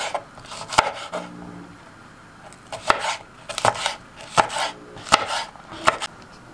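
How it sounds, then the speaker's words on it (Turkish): A knife chops peppers steadily on a cutting board, six or seven sharp, evenly spaced knocks with short pauses between them, close and clear. "Bunları da ince ince doğrayalım."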